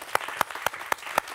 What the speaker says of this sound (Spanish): ¡Fuerte aplauso para una actriz camaleónica!